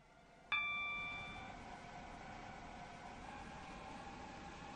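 A Connect train in the Stepford County game: a sharp metallic ding-like strike, then a long ringing tone that slowly fades over a low steady rumble, with no voices.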